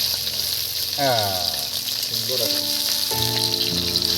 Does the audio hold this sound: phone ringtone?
no